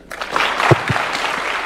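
An audience at a State House breakfast for the FKF Premier League champions claps in a short, dense burst of applause that stays at a steady level with a few sharper claps standing out.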